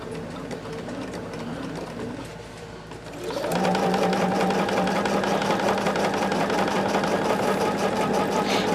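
A sewing machine stitching a quilt seam starts up after a quiet hum and then runs at a steady fast whirring chatter, loud and close, for the rest of the stretch.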